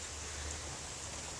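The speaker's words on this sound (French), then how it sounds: "j'espère qu'on m'entendra bien, mais il pleut" Rain falling outdoors in nature, a steady, even hiss of drops without breaks, fairly faint and continuous.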